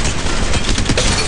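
Automatic gunfire in Apex Legends Mobile, a loud, dense and continuous burst of shots filling the short moment with no talk.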